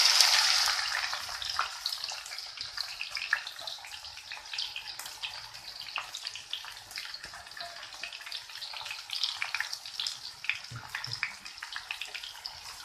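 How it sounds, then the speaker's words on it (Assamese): Onions frying in hot oil in a kadai for Hyderabadi chicken biryani give off a steady, hissing sizzle, loudest at the start and then settling into a constant crackle close by. "পিঁয়াজখিনি ভাজিছোঁ।"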